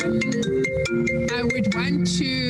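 A mobile phone ringtone plays as a steady melodic tone pattern under a man's ongoing speech during a parliamentary select committee meeting, continuing throughout at a moderate level.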